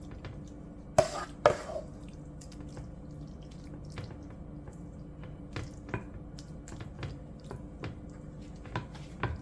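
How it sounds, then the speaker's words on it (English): Cooked pasta is laid in a layer into a baking dish for baked mac and cheese, giving soft wet squishes and light taps, a couple of sharper ones near the start, then quieter scattered sounds. "Then I'm gonna put the other layer of the pasta."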